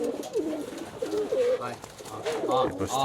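High-flyer pigeons cooing repeatedly nearby, soft throaty calls recurring throughout, with a person speaking over them.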